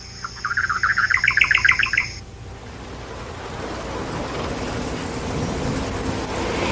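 Small birds chirp in a quick, busy trill at their nest woven high on a papyrus stalk for about two seconds, then fade into a soft background rush of wind or water.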